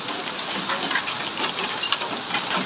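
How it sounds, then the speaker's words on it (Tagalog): Heavy hail pelts a car during a sudden storm in Saudi Arabia, a dense, steady patter of ice hitting the body close by with no break across the clip. "Naku, nayupi na yung sasakyan. Mula ng yelo."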